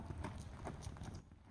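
Hooves of a ridden horse clip-clop in a steady rhythm, several even footfalls close by over faint background noise.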